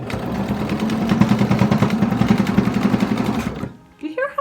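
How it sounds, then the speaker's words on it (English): A home sewing machine sews a bag made from thrifted fabric with an attachment fitted, running loud and fast with a rapid, steady mechanical thumping. It stops abruptly near the end, and faint sounds follow. "You hear how loud my sewing machine is?"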